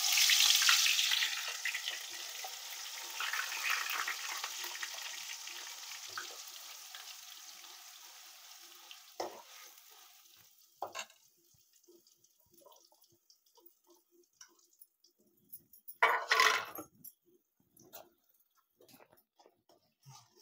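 Onion paste hitting hot oil with cumin already fried, a loud broad sizzle at first that gradually fades, then scattered drips, clinks and a few stirring scrapes, no voices.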